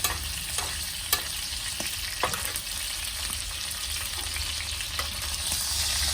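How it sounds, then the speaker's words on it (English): A fatty New York strip steak sears in a pan with butter, giving a steady loud sizzle across the whole stretch, punctuated by a few sharp taps and scrapes, with no talking. "Now we're gonna cook it on this fatty piece of a New York strip"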